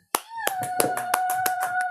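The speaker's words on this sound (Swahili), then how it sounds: "mshangilie Bwana Yesu kwa makofi" A church congregation claps hands in a steady rhythm while praising Jesus, sharp repeated claps over a sustained sung or organ tone.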